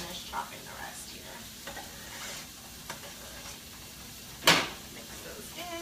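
A short burst of sizzling as chopped onions hit a hot frying pan, over a low kitchen hiss with faint clinks before it.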